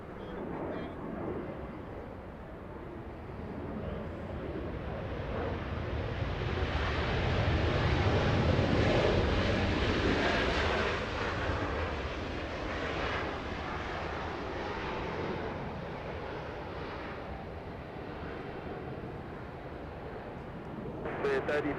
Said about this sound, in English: Yellow plane coming in, Spirit Airlines 3035 flying in from Salt Lake City.